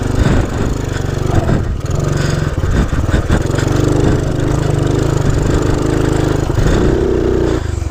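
Small-engine drone of a Honda C90 motorcycle ridden to the shops on a slippery lane, a steady loud putter with rattles and wind buffeting throughout, no talking.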